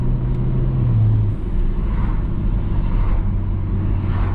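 A 480 hp BMW F30 335i pulling hard in third gear, its engine droning low and steady from inside the cabin with a brief dip as the revs shift, no talking over it.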